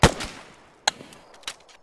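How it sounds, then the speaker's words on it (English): Sharp, separate gunshots crack in the Arma 3 video game, with a loud one at the start and two more spaced about half a second apart, each followed by a short echo. "Where are we being shot at from?"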